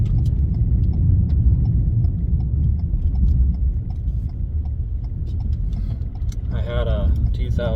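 2022 Ford Maverick pickup cruising at 60 mph while towing a trailer, a steady loud low road and engine rumble from inside the cab with small clicks and rattles, and someone speaking near the end.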